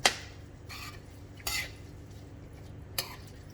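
A spoon stirring vegan mashed potatoes thinned with plant milk in a pot, three brief clinks and scrapes about a second and a half apart over a quiet soft rustle.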